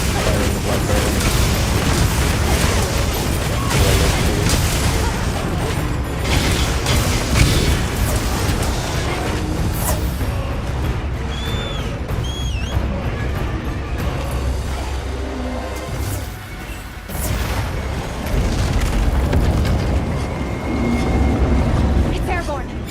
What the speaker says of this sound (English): Firing the Black Dragon.